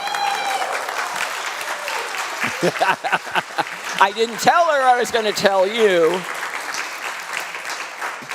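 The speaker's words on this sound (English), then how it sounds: "But you hear that applause, Misa?" Applause from a church congregation during a Sunday service livestream, a moderate patter of clapping that runs under a speaker's voice and laughter, with talk dominating the middle stretch.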